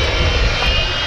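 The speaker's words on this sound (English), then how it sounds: "Here, the famous Vulcan howl from the 4 Rolls-Royce Bristol Olympus engines." The Avro Vulcan XH558 with four Rolls-Royce Bristol Olympus engines howls at an air day, RNAS Yeovilton, a loud, steady, broadband jet roar with a sustained high whine, close and continuous.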